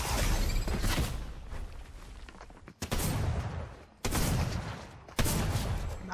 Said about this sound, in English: We're in a hand cannon battle.